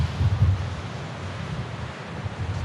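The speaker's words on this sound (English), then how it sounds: "The waves are crashing against the rocks." Waves rumble and wash against rocks below the cliffs at Portreath, Cornwall, under strong, steady wind buffeting the microphone, with no voices.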